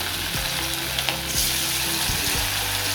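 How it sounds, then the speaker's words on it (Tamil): Masala-marinated fish fries in hot oil for a traditional fish fry, giving a continuous close sizzle and crackle with a few sharper spits and pops. No voices are heard. "இப்போ கொஞ்சம் எண்ணெயை ஊற்றி பொரித்து எடுத்துடலாம்."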